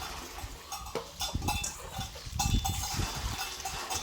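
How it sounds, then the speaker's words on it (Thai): Irregular clanking of cowbells on cattle, hollow metallic knocks scattered unevenly at moderate distance, with faint rustling between strikes. "เสียงกระโหลงงัวพังไปนำเด้อ"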